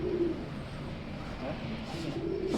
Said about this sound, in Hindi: ये अल्लाह रखी कबूतरी के बेटे का शौक कर रहे हैं